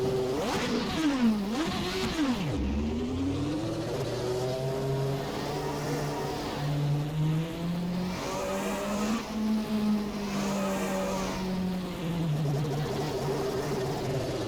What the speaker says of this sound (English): We're going to take it out to do a couple of laps.